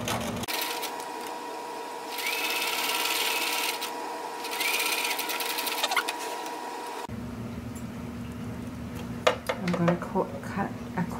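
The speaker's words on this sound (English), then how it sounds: "I'm going to lay it flat, and I'm going to sew." Close sewing machine stitches an old towel in a fast, even whirring run, pausing and restarting, with a brief mechanical clunk and rattle toward the end.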